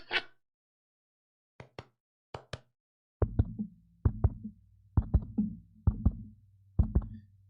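A heartbeat sound played on a live stream thumps in low, paired lub-dub beats at a steady rhythm, fairly loud and close, preceded by a few faint, sparse clicks.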